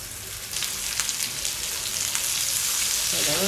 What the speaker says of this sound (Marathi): कांदा आपल्याला पहिला भाजून घ्यायचा आहे त्याच्यासाठी मी ह्यामध्ये कांदा घालून घेते